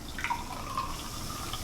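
Liquid water poured into a different container, a short soft trickle with light dripping and splashing, heard alone.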